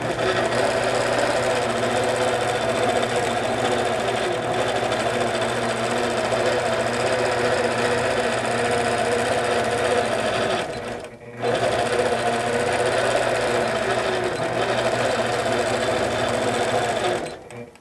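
A sewing machine guided by a Precise pantograph system stitches continuously, a steady rapid mechanical whir and chatter that stops briefly around the middle and then resumes at the same pace.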